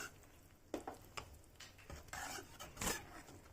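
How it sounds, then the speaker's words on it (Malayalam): Kadhi is stirred in a cooking pot over raised heat, giving quiet, close scrapes and clinks of a spoon against the pot in irregular strokes. "തീ ഇച്ചിരി കൂട്ടി വെച്ചിട്ടുണ്ട്, ഒന്ന് ഇളക്കി കൊടുക്കുവാണ് ഞാൻ"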